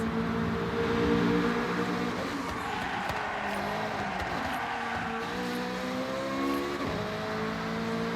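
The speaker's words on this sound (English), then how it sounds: "Get ready to blast those engines." Car engines rev loudly in Forza Horizon 6, a continuous racing roar with shifting pitch and tire noise as the car pushes through a tunnel toward the finish.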